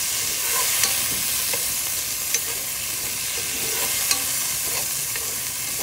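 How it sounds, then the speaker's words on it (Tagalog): Tomatoes sautéed in a pan for mung bean stew, a loud, continuous hissing sizzle that fills the clip, broken now and then by brief clicks of the spatula. "Igisa po tayo ng kamatis."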